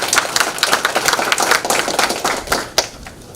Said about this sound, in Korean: 박종훈 경상남도 교육감님께 한 번 더 큰 박수 부탁드리겠습니다